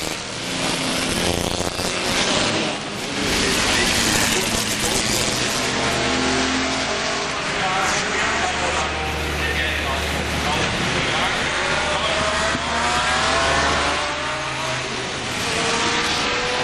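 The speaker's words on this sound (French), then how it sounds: "Voilà une petite Ces Italia qui en termine." A historic Cisitalia racing car finishing the Historic Grand Prix of Monaco in 2000, engine roaring loudly and continuously amid crowd and ambient noise, with a commentator talking over it.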